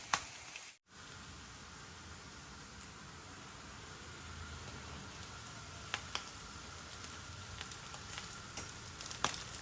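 Rice, eggs and vegetables fry in a pan with a steady, quiet crackling sizzle, broken by a momentary dropout early on and a few faint clicks and ticks.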